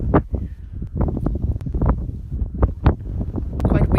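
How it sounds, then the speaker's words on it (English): Gusty wind thumps and rumbles against the microphone in uneven bursts, with faint voices underneath. "Quite windy there, hey?"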